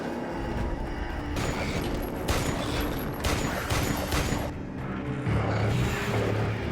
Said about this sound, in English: The man picked up the machine gun and shot wildly.